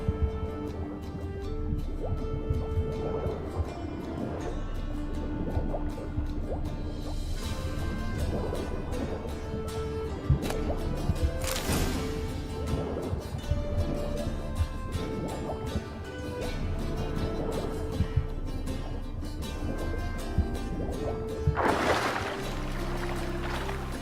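Swimming through oily harbor water in The Witcher 3 video game, with steady liquid sloshing and dripping layered under continuous game music for the whole stretch.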